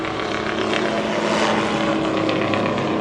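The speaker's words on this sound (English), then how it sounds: "There it goes, look, a helicopter." Steady droning helicopter rotor and engine noise overhead fills the air continuously, a loud aircraft hum that holds level without fading.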